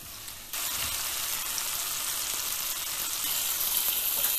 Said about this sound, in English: Cook it on low to medium heat till the tomatoes are cooked and they burst open.